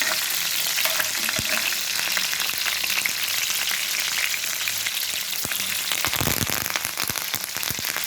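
Green chillies sizzle and spit steadily in hot oil, a dense continuous crackle with sharper pops toward the end, close and alone without voices.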